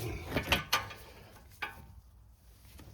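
An 8mm spanner works a bolt loose on a Jaguar S-Type barn find, giving a few close, sharp metallic clicks and ratcheting knocks followed by a quieter stretch.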